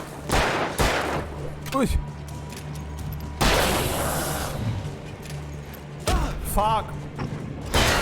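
Gunfire in the video game Alan Wake, several loud, sharp shots with booming tails spaced across the span, mixed with game music and effects, while a player swears and talks between blasts.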